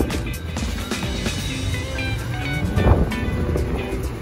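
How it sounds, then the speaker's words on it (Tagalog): Strong waves splashing over the Manila Bay seawall, a dense continuous roar of surf and spray with wind buffeting the microphone, loud and close throughout. "Parang rain shower mga kabayan na umampas sa siwol."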